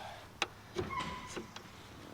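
Power windows on a 1969 Lincoln Continental, a short electric motor whir with a few clicks and thumps, close and quiet, heard alone.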